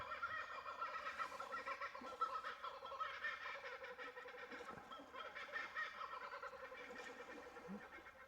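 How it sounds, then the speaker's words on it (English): Australian kookaburras call from the bush around Lake Conjola on the NSW South Coast, a faint, distant chorus of cackling that rises and falls steadily over several seconds. "There you go, the Australian kookaburra."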